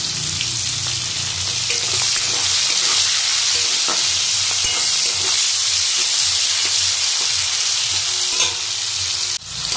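Onions dropped into hot oil with cumin, bay leaf and whole garam masala, frying with a loud, continuous close-up sizzle and hiss broken by small crackles and scraping stirs.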